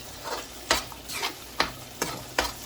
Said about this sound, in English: Look how nice the onion and everything fry up together.